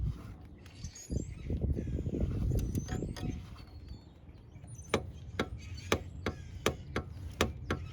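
Socket wrench ratcheting a valve cover bolt down on a 1996-2001 Ford Ranger 2.5 engine, a run of sharp, evenly spaced metallic clicks close by after some rustling handling noise.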